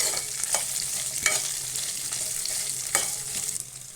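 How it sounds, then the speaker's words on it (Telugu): Large chunks of onion sizzle steadily in a hot pan while a spoon stirs them, with several sharp scraping clicks standing out above the continuous frying hiss. "ఆనియన్స్ ఫ్రై చేసుకోవాలి."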